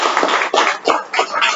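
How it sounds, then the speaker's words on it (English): Audience at a Toastmasters club meeting clapping for the Toastmaster, a short burst of hand claps in loose uneven pulses, fairly close and loud. "Can we have a huge round of applause?"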